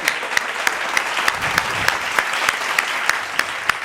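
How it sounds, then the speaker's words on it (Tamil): A church congregation claps together in a steady rhythm, roughly three claps per second, crisp and fairly close, with a low murmur of voices underneath. "கைத்தட்டுங்க"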